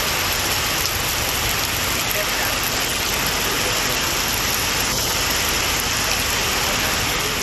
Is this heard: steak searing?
no